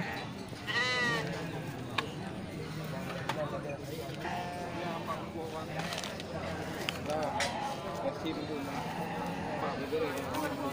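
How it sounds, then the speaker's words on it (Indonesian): Garut rams bleat amid a busy livestock market, their calls rising over constant crowd chatter and background noise, with a few louder nearby bleats standing out. "Ya, ini semacam atau sejenis dari domba Garut ya."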